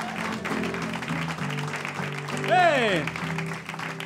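Applause from a comedy pub audience, a steady clapping wash running under a host's voice, with a shout rising briefly toward the end.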